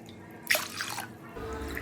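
Water poured into washed toor dal in a pressure cooker, a short splashing pour of about a second followed by a faint steady trickle, close and fairly quiet.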